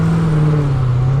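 Close, loud engine rev from a 2020 Dodge Challenger Hellcat Redeye: a brief, steady deep growl held for about a second, alone with no voices.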